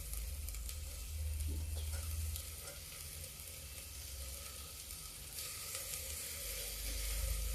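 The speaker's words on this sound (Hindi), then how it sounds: "अब इसमें हम ये देखिए कच्चा टमाटर डाल देते हैं" Raw tomato frying in a pan while dal is cooked, a steady sizzle running throughout with a brief stir or two, close and fairly loud.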